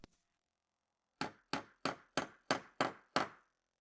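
Seven evenly spaced hammer blows drive 30 mm twisted nails into a wooden wall plate, each a sharp dull thud with quick decay, about one every third of a second, close but fairly quiet.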